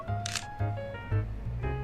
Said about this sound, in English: As the shutter button clicks, I look in surprise to see Raphael smiling behind the camera